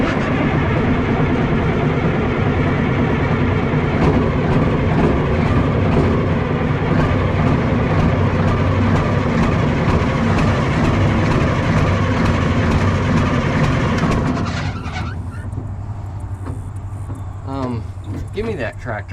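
A Cat 977K track loader's big diesel engine runs with a loud, heavy rumble up close, then settles lower near the end as voices talk over it.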